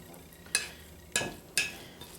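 Mustard potato salad dressing being stirred in a bowl, three distinct scraping strokes of a utensil, quiet and close, with faint background noise between them.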